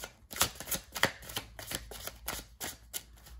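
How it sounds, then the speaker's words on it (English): Tarot cards shuffled by hand in a quiet room, a series of soft, crisp riffling bursts at an uneven rhythm, close and faint, with no talking. "Just gonna keep shuffling."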